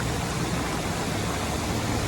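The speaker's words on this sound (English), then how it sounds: "Can't really see that waterfall as well from here." Broadband rushing roar of a waterfall in Oklahoma's national park, steady and dense like pink noise with no breaks, heard close and fairly loud without any voices.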